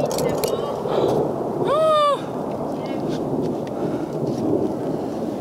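Steady hiss of rain with a low, rolling thunder-like rumble surrounds climbers on a big multi-pitch rock wall, with a brief whistling tone rising and falling in the middle of the continuous wash.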